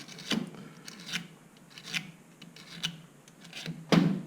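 A hard steel blade scrapes excess gasket material during final assembly of a Suzuki RGV250 motorcycle engine: short, faint, rasping strokes come at irregular intervals, close by, with a slightly louder scrape at the end.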